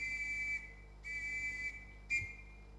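Referee's whistle signalling a gathering: three shrill blasts, a long one, a second long one, then a short sharp peep, loud and clear over a faint background hum.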